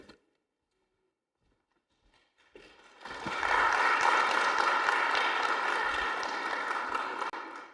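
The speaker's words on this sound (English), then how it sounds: "He gets applause." After a near-silent start and a few stray knocks, applause from attendees at an annual meeting rises abruptly and holds as a steady, moderately loud burst of clapping that fades slightly at the end.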